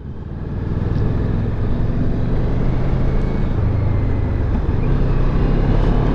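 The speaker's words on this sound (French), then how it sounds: "le moteur également fait pas énormément de bruit" A Moto Morini Seiemmezzo motorcycle engine hums while riding, a steady, fairly quiet low drone blended with wind rush, continuous and unbroken throughout.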